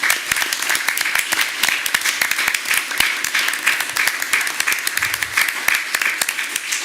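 Audience at a school board meeting breaks into steady, sustained applause, many hands clapping in a dense, even patter from start to finish with no speech over it.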